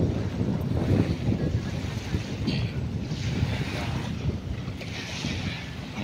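Surf rolling onto the shore of Manila Bay by Dolomite Beach near the Manila pier, a steady broad wash of waves mixed with gusting wind against the microphone, with faint voices now and then.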